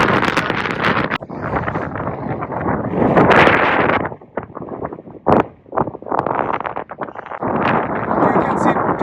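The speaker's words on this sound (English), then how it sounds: "The good thing is that the wind is in the direction which we are walking" Strong wind buffets the microphone on a mountain hike up Scafell Pike, roaring in surging gusts that drop away briefly and return with full force.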